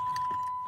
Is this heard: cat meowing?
no